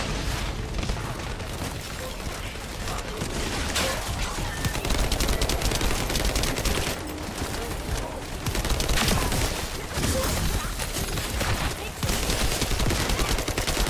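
Turret gunfire in The First Descendant rattles almost without pause, dense overlapping automatic bursts and booms filling the whole stretch at steady loudness.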